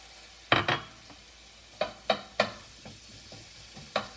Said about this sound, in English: I'm going to add the onions in.